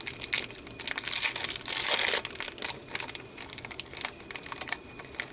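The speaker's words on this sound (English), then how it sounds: "Sorry for the crinkling, you guys." Paper and plastic crinkling while a journal is crafted by hand: dense, close rustling and crackling in uneven bursts, loudest near the start, with no talking.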